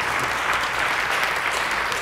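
Steady crowd clapping fills the room at a Halloween stage performance, dense and even from start to finish, loud and close, with no voices standing out.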